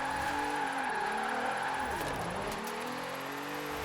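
In the racing video game Forza Horizon 4, a car tuned for wheelspin drifting holds a steady engine drone. Its pitch sweeps down and back up as the handbrake is tapped through a corner.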